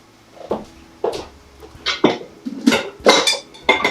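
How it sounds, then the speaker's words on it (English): A spoon scrapes and knocks inside a pot of simmering cheeseburger soup, with loud, close, uneven clanks and scrapes that come in short bursts about every half second. "I'm going to give it a good stir"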